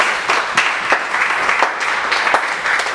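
A church congregation applauds in steady, rhythmic claps, loud and close, continuing throughout without pause.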